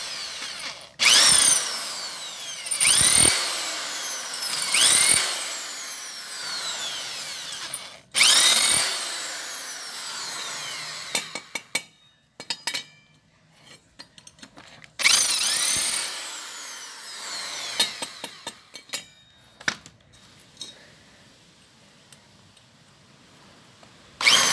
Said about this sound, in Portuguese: Que agora é só furar para fazer a rosca do ouvido.